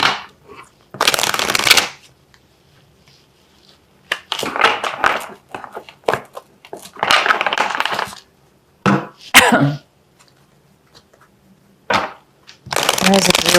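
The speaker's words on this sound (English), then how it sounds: "let's go ahead and pull a clarifying card for this Three of Wands here" A tarot deck is shuffled and cards are drawn during a reading, in several loud, close bursts of riffling and flicking separated by quiet pauses, with a voice talking now and then.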